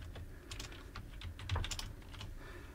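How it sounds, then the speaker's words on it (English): Quick bursts of keystrokes on a computer keyboard, several light clicks in a short run, close and clear with no talking. "I'm going to type green."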